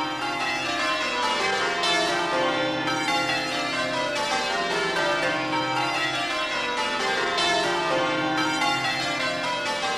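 London church bells peal continuously in overlapping, rhythmic changes, rich and ringing, with no voices over them.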